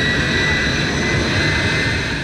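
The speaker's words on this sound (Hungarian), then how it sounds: "Azután feldübörög a motor." A powerful aircraft engine roars steadily at close range, a dense continuous drone with a bright whining tone over heavy rumble, holding loud and unbroken throughout as if revving up for takeoff.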